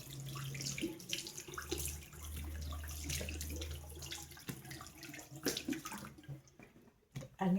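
Tap water runs steadily into a sink while someone washes their face with face wash during a morning routine, a soft continuous hiss that breaks off briefly near the end.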